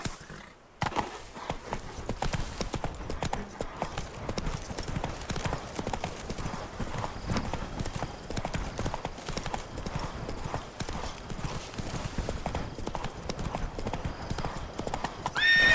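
Roach the horse galloping in The Witcher 3, a fast continuous clip-clop of hooves with occasional whinnies, steady and close throughout.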